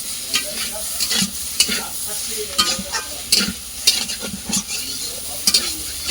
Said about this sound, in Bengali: তরকারিটা আমি এবার ভালো করে একটু কষিয়ে নেব।